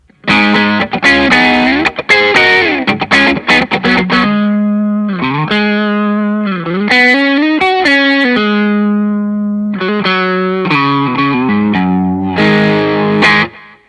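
Overdriven electric guitar plays a lyrical phrase with bends and sustained notes, a smooth, mid-heavy crunch from a small Tube Screamer-style mini overdrive pedal.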